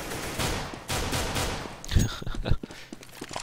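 AK rifle fire in Counter-Strike on de_train, with several sharp bursts of rapid gunshots, some close and loud, others more distant, in a busy firefight.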